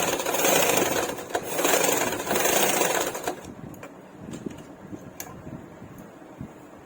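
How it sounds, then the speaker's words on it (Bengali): A sewing machine stitches the end of a strip on a baby frock, running in a loud, steady whir for about three seconds before stopping, followed by faint handling clicks. "এবারে শেষের দিকটা সেলাই করে নিচ্ছি।"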